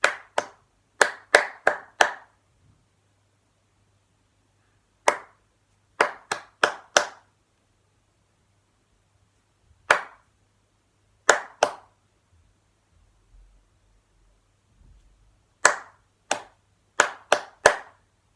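Sharp hand claps come in short rhythmic groups of three to five, separated by silent pauses, clear and close in a quiet room during a children's recorder lesson.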